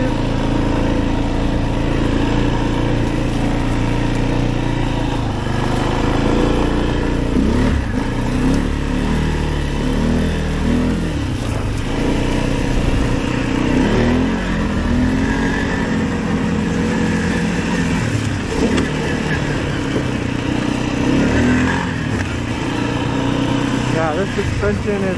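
An Arctic Cat 700 engine running and idling a little unevenly, a steady loud motor drone with slight fluctuations throughout, and a person talking over it.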